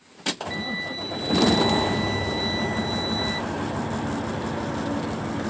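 A truck's diesel engine cranks and catches during a CDL pre-trip inspection, then settles into a steady, loud idle close by, with a thin electronic warning tone sounding over it for a few seconds.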